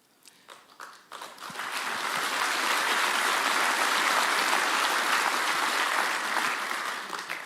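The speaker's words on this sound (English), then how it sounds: "I'm glad to hear the applause on that" Audience applause at a talk starts with a few scattered claps, then swells within a second into loud, sustained clapping from a large crowd that holds steady before easing slightly at the end.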